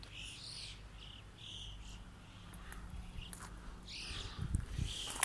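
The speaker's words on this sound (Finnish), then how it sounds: "Jotain lintuja, musta rastaita täällä." Blackbirds sing outdoors on a trip in Croatia, with clear, fairly close phrases repeating at intervals over soft ambient background noise, and some faint rustling or footsteps near the end.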